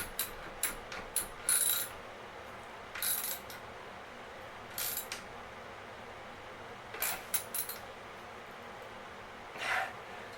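A ratchet tightening the seat bolt on a 1988 Huffy freestyle BMX bike, several short bursts of quick clicking, faint and close, separated by pauses.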